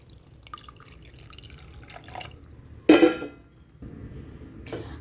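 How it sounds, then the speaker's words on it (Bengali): Spice-boiled water poured into frying masala in a pan for rohu fish curry, giving a sudden loud splash and hiss that fades, then a second brief pour over a low background sizzle. "এবার আমি ওর মধ্যে এই যে মশলা সিদ্ধ করেছিলাম যে জলটা, সবার আগে ওই জলটাই দিয়ে দেব।"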